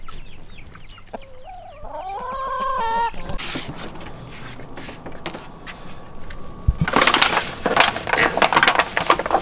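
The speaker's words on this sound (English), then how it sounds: "I'm kind of distracted checking out these chickens here." Chickens on a farm clucking and calling in a short rising series early on, followed by rustling and crunching handling noises, with a voice speaking faintly in the background.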